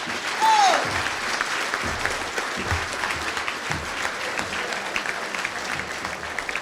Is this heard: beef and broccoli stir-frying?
no